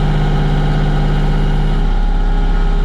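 A Bobcat tractor's engine running steadily at 2,000 RPM, a loud, constant mechanical drone with a strong low hum and even harmonic tones, unbroken and close by with no voices.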